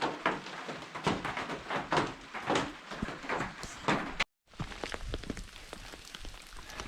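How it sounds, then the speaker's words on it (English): Steady rain falls outdoors during a solo hike through snow, wind and rain, a dense close patter with a brief drop-out partway through. "So it's raining."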